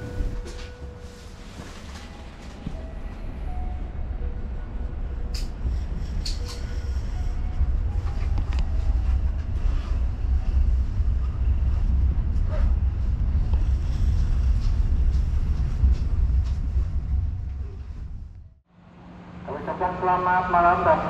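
A Serayu passenger train pulling into Leles station in Garut, West Java, at night: a loud, steady low rumble that runs for most of the clip, cuts off abruptly near the end, then gives way to a voice.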